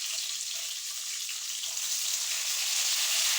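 Green and red bell peppers frying with chopped onions in a pan, a dense, steady crackling hiss that swells slightly toward the end, close and without voices.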